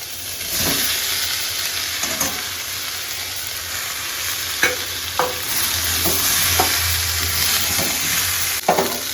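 Fried vegetables are tipped into a pot of boiled sukto and stirred, bringing a steady close sizzle with several sharp scraping stirs and clatters scattered through it, free of speech.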